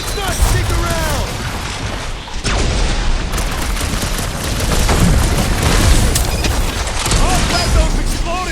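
Explosions and gunfire in the Marvel's Guardians of the Galaxy video game, with loud, dense booms and blasts rolling continuously over a rumbling combat soundscape, with bursts of character dialogue mixed in.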